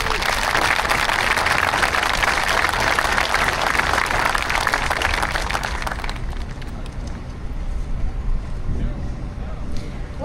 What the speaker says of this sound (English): Would you please give a big round of applause for these two students?